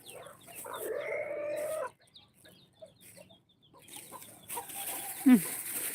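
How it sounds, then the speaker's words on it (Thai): A rooster crows loudly nearby, a long rising call at the start followed by shorter clucks and another crow toward the end, with rural background sounds. "ขันใหญ่เลย"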